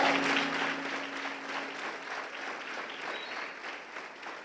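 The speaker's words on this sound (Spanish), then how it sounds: "Denle un aplauso al Señor." A church congregation gives sustained applause during a sermon, a broad, even roar of many hands clapping that fades slightly toward the end, heard at a moderate distance.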